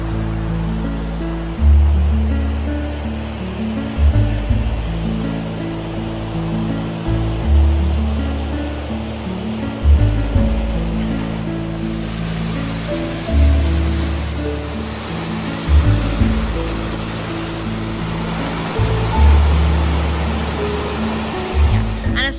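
Rushing water from a waterfall and river, a constant loud roar with no break, heard close, with repeated low thumps of wind buffeting the microphone.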